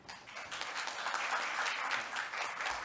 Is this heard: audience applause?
yes